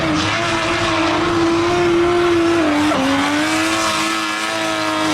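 A voice imitates the engine of a Lexus CS300 sports car, holding a steady droning tone that dips briefly in pitch, like a downshift, before rising again, close and loud with no other talk.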